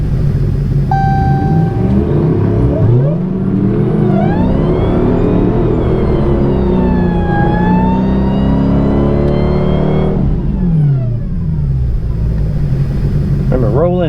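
A Hellcat on its street setup, running 93 octane pump gas, launching down a drag strip: a loud, close engine roar climbs through the gears with sweeping pitch rises, a brief shift dip, then keeps building to the end.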